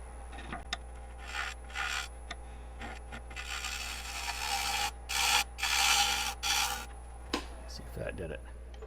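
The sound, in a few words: bowl gouge cutting maple wood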